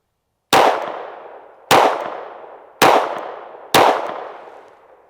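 Four loud, close pistol shots from a PSA Dagger Micro or Shadow Systems CR920P, each with a sharp crack and a long ringing decay, spaced about a second apart at an even pace.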